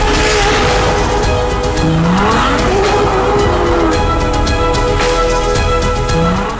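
A Ferrari 812 Superfast with its naturally aspirated front-mounted 6.5-litre V12 revs loudly and steadily up close, its engine note rising and falling through rapid pitch sweeps for several seconds.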